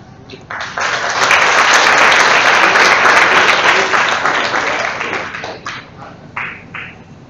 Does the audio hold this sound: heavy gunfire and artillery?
no